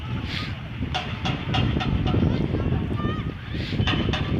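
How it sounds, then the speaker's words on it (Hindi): A railway brake van, a ZVKC train coach with no locomotive, is pushed along the track by people, giving a steady rolling rumble with faint clacks and creaks under a noisy crowd and outdoor bustle. "लोगों ने जोर लगाया है ब्रेक वैन को"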